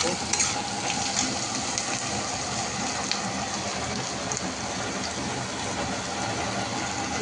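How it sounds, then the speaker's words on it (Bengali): Onion frying in a pan with black cumin seeds gives a steady, even hiss of sizzling oil throughout, moderately loud with no talking over it. "পেঁয়াজটা একটুখানি ভাজা ভাজা করবো।"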